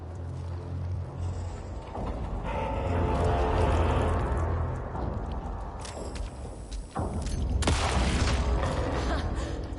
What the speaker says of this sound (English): I use a flashbang.